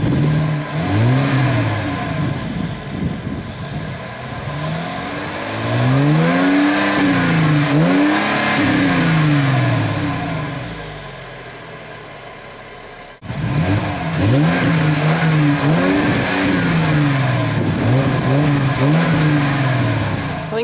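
Exhaust of a 2013 Mercedes-Benz C300 revving, with repeated rising and falling engine sweeps, loud and close, settling to idle between blips before another series of revs.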